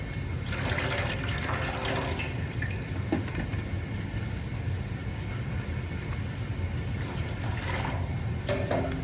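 Water sloshes and drips steadily as excess liquid is pressed out of freshly dyed fibre before it goes into a dye pan, a continuous close wet rustle with occasional splashes and no talk.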